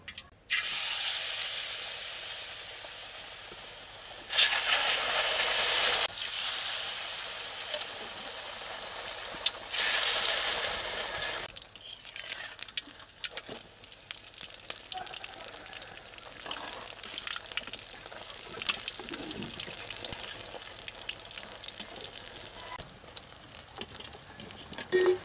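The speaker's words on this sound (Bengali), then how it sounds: "এখন তেলে দিয়ে ভেজে নেব।" Pumpkin flower fritters coated in rice flour frying in mustard oil: a bright crackling sizzle that flares in loud bursts as pieces go in, then settles into quieter bubbling with scattered pops.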